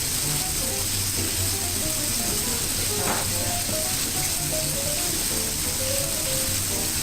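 Home-made fried chicken sizzles in a pan with a steady, hissing crackle of hot oil that runs continuously, with faint kitchen clatter in the background.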